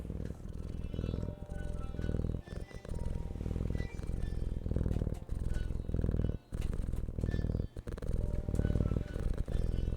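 A house cat purring loudly right up close, a continuous rhythmic rumbling purr broken by a few brief pauses for breath, with no voices.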